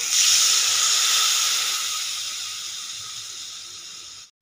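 A loud, steady sizzling hiss as water is poured onto fried spices in a hot pan, fading gradually over a few seconds before cutting off.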